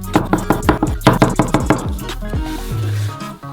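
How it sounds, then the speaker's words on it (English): A knife slices olives into rounds on a board, about a dozen quick, crisp, close chops in a steady rhythm, followed by a short sustained tonal sound, no talk. "We take the olives out of the jar and cut them into circles."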